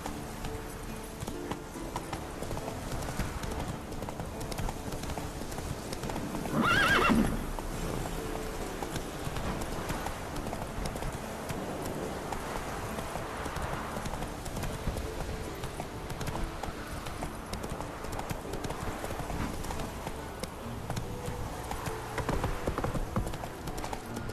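Roach the horse gallops with a steady, rapid hoof clip-clop that runs throughout, mid-distance and fairly even in loudness, with a brief louder burst of movement early on.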